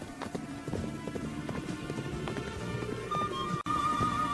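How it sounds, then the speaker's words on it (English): A cartoon horse gallops with rapid, evenly spaced clip-clopping hoofbeats, steady and moderately loud over a rumbling background, cut by a brief dropout near the end. "What do I have to do to make this horse go faster?"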